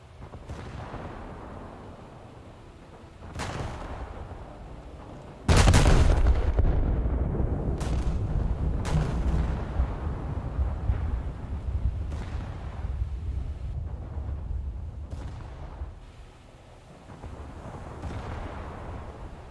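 Naval gunfire in a video game: heavy ship guns boom in a series of loud, sharp blasts, several spaced irregularly, one especially powerful salvo followed by rolling, rumbling reverberation and lingering battle noise.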